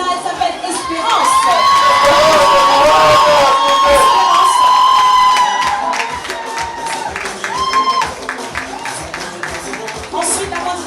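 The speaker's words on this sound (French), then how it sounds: "on l'applaudit très fort, s'il vous plaît" A large audience at a Miss Est Afric 2015 pageant evening cheers, whoops and claps loudly for a candidate, with high shouts and sustained crowd noise over the whole stretch before it eases slightly.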